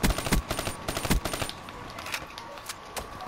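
XR rifle in Black Ops 3 multiplayer fires rapid bursts of sharp, evenly spaced shots, loud and close for the first second and a half, then fainter scattered gunfire further off.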